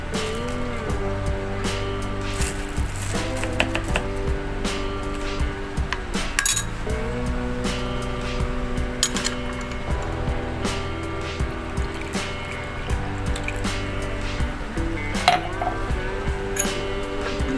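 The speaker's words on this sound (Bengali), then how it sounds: "একটি বাটিতে আমরা কর্নফ্লাওয়ার গুলিয়ে নেব।" Cornflour being stirred into water in a bowl, with light clinks and taps of a spoon against the dish over a steady background hum, repeating irregularly throughout.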